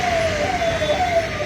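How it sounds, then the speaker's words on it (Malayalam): An ambulance stuck in a heavy traffic jam on a road under construction near Chalakudy wails with a steady, sweeping siren, heard from nearby over a low rumble of engines. "ആംബുലൻസ് അതിൻ്റെ ഇടയിൽ കുടുങ്ങി."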